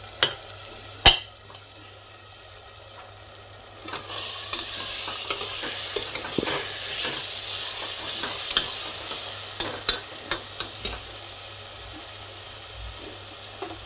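A vegetable pulao masala roasts in a pan, giving a steady, loud sizzle. Occasional clicks of stirring sound over it, with no voices.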